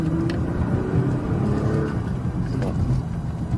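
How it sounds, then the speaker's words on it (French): A race car on a circuit powers out of a corner onto the straight, its engine droning loud and steady close by with a rising pitch sweep, while a voice talks faintly over it. "on positionne la voiture et là donc on accélère pour la ligne droite"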